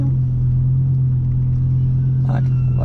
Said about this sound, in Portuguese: a gente vai poder curtir um pouco a subida desse V10 com mais de 600 cavalos para vocês